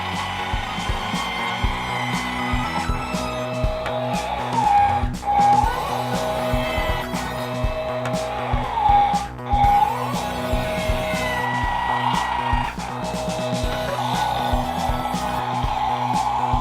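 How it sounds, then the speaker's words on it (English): A remote-controlled toy dump truck runs with a continuous high electric motor whine that rises and dips as it moves and operates its dump bed, with brief squeaky pitch changes and no voices. "These buttons right here operate the dump truck."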